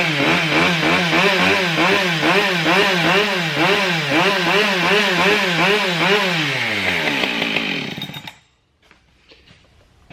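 A Husqvarna 572xp chainsaw runs loud and close, its engine revving and wavering for several seconds before abruptly cutting out into near silence.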